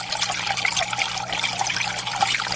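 Uniclife 80 GPH 4W submersible water pump running in a small water feature, a continuous close trickle and burble of falling water, steady and fairly quiet with no voices.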